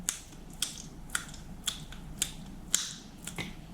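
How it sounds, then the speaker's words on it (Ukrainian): Wet hands slapping a minced meat mixture to compact it while shaping lazy cabbage rolls made with cauliflower, with close, sharp, moist slaps repeating roughly every half second and no talk. "Обов'язково вибиваю, як котлети."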